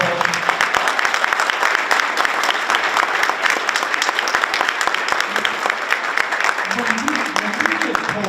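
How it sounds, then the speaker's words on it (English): An audience at a school district Veterans Day breakfast gives a sustained round of applause, dense and steady, with a voice returning over it near the end. "Can we give them a round of applause?"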